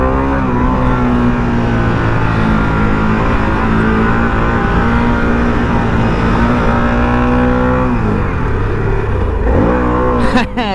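A Harley-Davidson Pan America motorcycle revving hard at the Interlagos race track, loud and close, the engine note holding high and then dropping and climbing again near the end, with wind noise.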